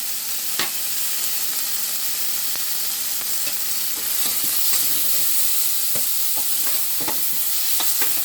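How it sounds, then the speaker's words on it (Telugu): A chili-powder masala with chopped coriander is stirred and fried in a pan, producing a soft continuous sizzle with intermittent close scrapes and taps of the spoon, no voices. "దీంట్లో వేసేసుకొని బాగా కలుపుకోవాలండి కారం వేగేటట్టుగా"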